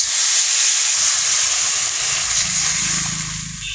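Water poured into a hot pan while cooking egg and broccoli chops throws up a loud, steady steam hiss that fades slightly toward the end, with no talking.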